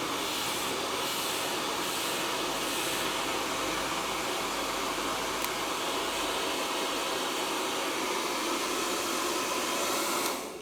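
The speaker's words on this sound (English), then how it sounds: "if you put the cold shot of the hairdryer on, that will set it on the little bit of the curve." Hair dryer running on its cold shot setting during a home blow-dry, a loud continuous whooshing roar of air held steady for about ten seconds, close and alone without talk.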